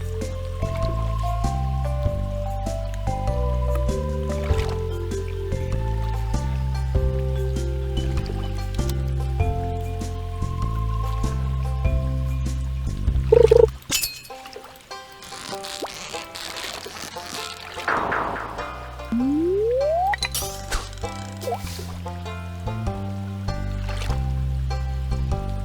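Water drips, splashes and trickles while fishing in the farming game Reaper Farm. Steady game music plays throughout, with a burst of splashing and gurgling partway through.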